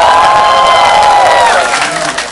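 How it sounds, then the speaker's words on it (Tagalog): An audience at a VMobile business presentation claps and cheers loudly and continuously, a dense wash of applause with shouts that fades slightly toward the end. "palakpak nga!"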